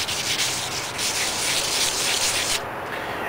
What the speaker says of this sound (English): So all you do is just take it and sand it down.